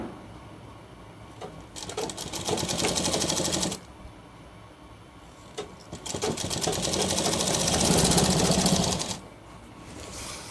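A sewing machine stitches the double-folded edge of a shirt's back panel in two loud, steady bursts of rapid needle clatter, separated by a brief pause, with no talk.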